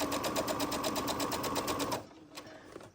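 Sewing machine stitching a zipper pouch, running forward then backstitching in a steady, loud mechanical whir that cuts off about two-thirds through, leaving quiet handling sounds.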